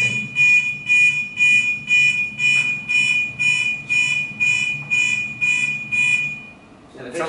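A fire sensor alarm buzzer sounds in about eleven rapid, evenly spaced high-pitched electronic bursts, loud and close, with a quick pulsing rhythm that stops near the end.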